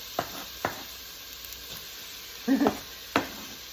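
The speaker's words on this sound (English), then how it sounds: "So let's go ahead and put those onions in there." Chopped onions sizzle quietly in a hot pan, broken by a few sharp scrapes and clacks of a wooden spoon stirring them, with no talking.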